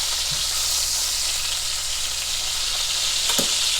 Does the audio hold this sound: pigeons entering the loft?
no